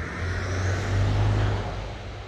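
A truck passes by on a road at night, a steady low engine rumble that swells to a peak midway and then eases off, moderately loud and with no talking.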